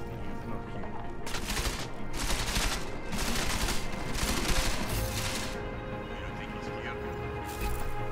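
Gunfire in the video game Deus Ex: Mankind Divided: several dense bursts of shots over about four seconds, then quieter stretches, set within steady game background noise and a talking voice.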